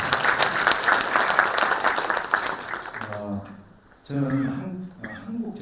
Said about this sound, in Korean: 박수 크게 쳐주세요.